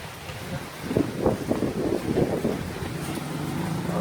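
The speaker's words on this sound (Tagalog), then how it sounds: "Kasi ang ulan may kasamang malakas na hangin." Strong wind gusts roar and rush against the microphone with a broad, hissing wash of rain, continuous and moderately loud.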